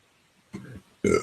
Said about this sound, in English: I feel like it kind of excuses me for belching when I belch.